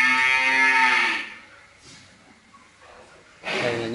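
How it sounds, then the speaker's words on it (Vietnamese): Fattened Ba Vi 3B beef cattle in a farm barn, with one loud, close, drawn-out moo followed by a quieter stretch, then a second strong moo starting near the end. "đây là những con bò đã rất là béo"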